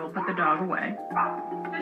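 A dog produces short yipping barks and whines close by, two or three quick vocal bursts with a tonal, whimpering edge within a couple of seconds.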